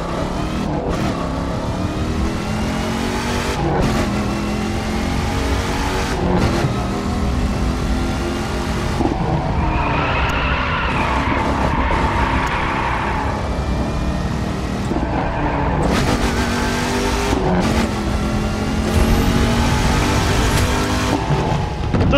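A Dodge Challenger drifts in the racing game The Crew 2 with driving aids switched off. Its engine repeatedly revs up and eases off, and a stretch of tire squeal rises midway over the steady motor drone.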